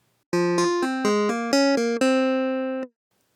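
An uncompressed clavinet plays a short run of about eight bright, spiky plucked notes, each sharp attack decaying quickly, close and dry.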